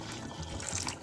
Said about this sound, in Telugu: కొంచెం వాటర్ వేసుకున్నాము